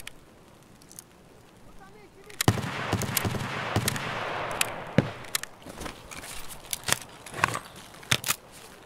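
Rapid gunfire in the video game Escape from Tarkov: a burst of loud, sharp shots in quick succession over a steady background roar, with scattered single cracks following, under occasional talk.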